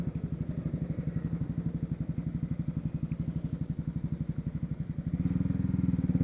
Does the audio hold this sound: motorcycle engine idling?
yes